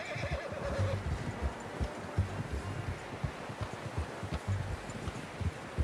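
A horse in the game Red Dead Redemption 2 gives a brief whinny near the start, then its hooves keep up a steady nearby clip-clop gait over soft rustling ground for the rest of the stretch.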